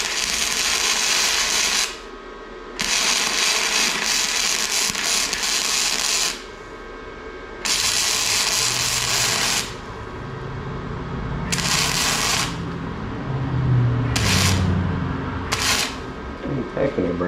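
Tack welding on thin metal of a mini drift kart frame: a loud crackling buzz in repeated bursts of one to four seconds, separated by short pauses, with a faint low murmur underneath.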